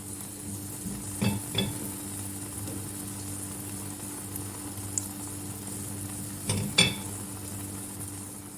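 Eggs cooking with spinach and kashar cheese in a covered pan give a steady low simmering hiss, with a few brief clinks of the lid or utensils near the start and toward the end.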